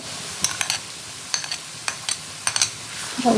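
Ground spice paste stir-fried for a goose curry: a low, steady sizzle broken by repeated sharp scrapes and clatters of a spoon against the pot, coming in short bursts.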